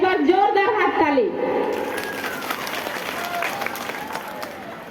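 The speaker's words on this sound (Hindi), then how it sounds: "तो सब मन ले एक बार जोरदार हाथ ताली" Audience at a community committee event applauding, a broad wash of clapping that swells and holds steady after a few seconds of amplified speech at the start.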